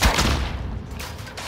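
A frag grenade blast in Call of Duty: Modern Warfare, a heavy low boom with a rumbling, crackling decay over a second and a half.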